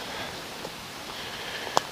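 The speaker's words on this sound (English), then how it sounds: "it's raining now." Rain falls steadily at a Wisconsin black bear hunting camp, a soft continuous hiss with faint scattered patters and one sharper close tap near the end.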